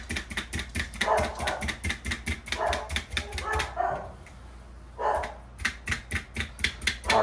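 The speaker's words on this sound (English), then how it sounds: "there's one of our house dogs in the background barking" A house dog barks repeatedly in the background, sharp rhythmic woofs in bursts with a short lull midway, fairly loud and steady throughout.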